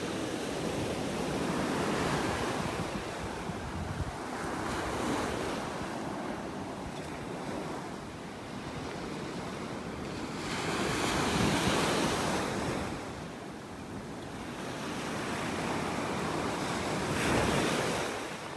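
Ocean waves breaking on a beach in North Naples, Florida, a continuous washing surf that swells and recedes in slow cycles, with wind noise on the microphone and no voices.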